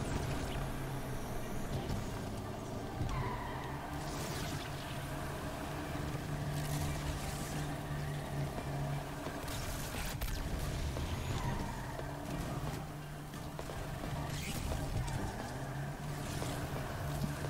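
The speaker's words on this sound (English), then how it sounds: "The RX-7 just doesn't quite have enough chooch to make it go, but I wanna slide it." Mazda RX-7 rotary engine droning steadily while drifting, heard from inside the car as a continuous loud engine note with road and wind noise throughout; no talking.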